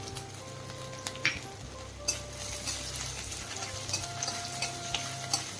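Finely chopped garlic and grated ginger sauté in a pan for veg momos, a quiet sizzle under light rhythmic ticking and occasional sharp taps of a spatula, with a steady low hum behind.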